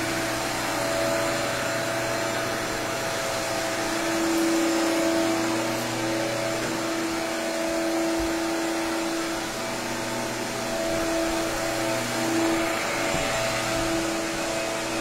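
A floor sanding machine runs steadily on a white oak floor, giving a loud, continuous motor hum with a droning tone that holds for the whole stretch without talk.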